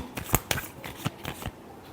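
Tarot cards are shuffled close by in a quick run of crisp riffles and slaps over about two seconds, with no talk.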